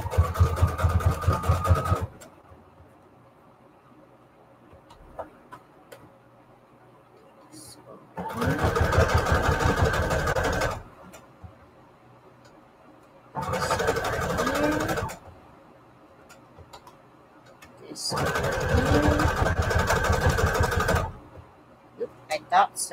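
A sewing machine stitching embroidery for vintage photo embellishments, running in four separate bursts of fast, even mechanical whirring with quiet pauses between them and faint small clicks.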